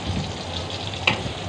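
Onions frying in a pan until browned give a soft, steady sizzle close by, with one brief sharp clink near the end and no voices.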